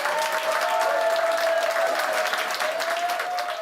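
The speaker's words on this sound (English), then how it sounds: "Applause for this Prime Minister rare these days." Dense, sustained applause from a large audience greets Prime Minister Keir Starmer at a speech in Liverpool, steady clapping heard close and evenly throughout.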